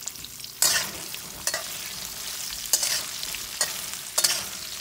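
Potato and cauliflower pieces with turmeric and salt sizzle steadily in a pan, broken by four or five sharp bursts of scraping as a spoon stirs and tosses them.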